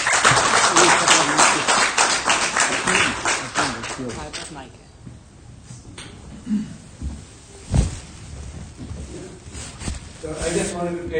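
Clapping from a crowd for the first few seconds, fading out and leaving a quieter room with scattered small noises.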